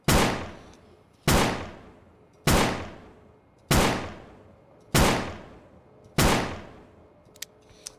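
A pistol fires in the video game Aneurism IV, six loud evenly spaced shots roughly a second and a quarter apart, each with a sharp attack and a decaying echo, followed by a couple of faint clicks.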